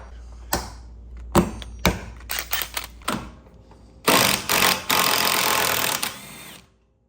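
A pneumatic impact wrench with a 1/2-inch drive 18 mm socket removes the top nut from a BMW F8X M3 strut, firing short mechanical bursts before a longer sustained rattling run that winds down, close and loud.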